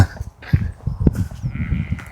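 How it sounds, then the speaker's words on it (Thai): Sheep bleat in short bursts near a mountain trail on Roys Peak near Wanaka, New Zealand, with wind rumbling steadily underneath and no talk. "อันนี้คือแกะนะฮะ"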